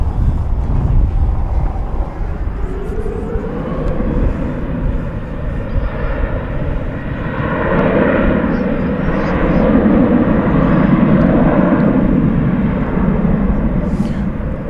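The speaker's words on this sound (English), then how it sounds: "Flight 730 A350 1000 going back to Doha" A Qatar Airways Airbus A350-1000 jet airliner at DFW Airport gives a sustained, fairly loud rumbling roar with a steady droning tone, mixed with wind buffeting on the microphone.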